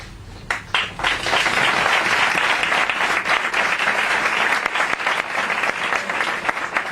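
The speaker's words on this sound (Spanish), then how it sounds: "Yo creo que el aplauso se lo merecen estos señores, Pedro Amorós, Luis Mariano Fernández, Luis" Sustained applause from a conference audience in Seville, a dense steady wash of clapping hands that swells quickly and carries on loud for several seconds with no voices on top.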